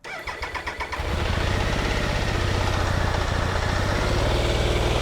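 An engine, likely a motorcycle, is started with a bit of choke and the clutch in after a crank position sensor replacement: a short rhythmic crank, then it catches and settles into a loud, steady, close idle.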